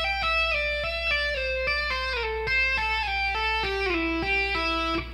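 Electric guitar with a clean, sustained tone plays a descending A pentatonic run, each note picked or hammered and pulled off in a steady flowing rhythm, stepping down in pitch over a constant low hum.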